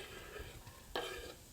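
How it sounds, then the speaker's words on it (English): Roasted butternut squash pieces sizzle in a hot soup pot: a soft, steady frying hiss with a sharper burst as they hit the pan partway through, fairly quiet and with no talking. "The pot's nice and hot. You can hear them sizzling."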